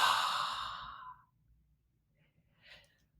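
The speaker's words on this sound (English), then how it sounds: "exhale loudly through your mouth for 6" A single long, loud exhale through the mouth, breathy and close, fading out over about a second, followed by a faint short breath.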